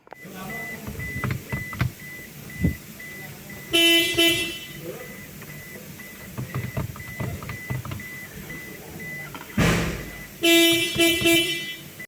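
Two short blasts of a Toyota Fortuner's horn, a few seconds apart, sound over a quiet background with faint clicks and brief muffled talk.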